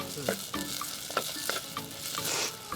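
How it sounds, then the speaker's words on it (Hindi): Small mango pieces added to golden frying onions and stirred in a pan, with a constant sizzle under scattered scraping stirs, close and steady, and no speech. "प्याज हमारा सुनहरा हो चुका है, तो अब हम इसमें आम डाल रहे हैं।"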